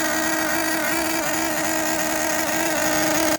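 A brand-new small engine runs steadily during break-in after starting, a loud continuous buzzing drone at a constant pitch with no pauses, heard up close.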